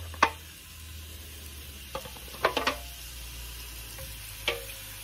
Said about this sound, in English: Oh yeah, here's our sizzle.